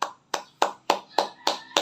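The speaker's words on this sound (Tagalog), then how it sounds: "Palakpak na naman." Seven slow, evenly spaced hand claps ring out sharply with short echoing tails, a deliberate measured rhythm rather than a crowd's burst of applause.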